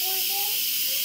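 Steam hissing from an Instant Pot during a low country boil, a steady loud hiss with brief tonal whistles and faint voices underneath.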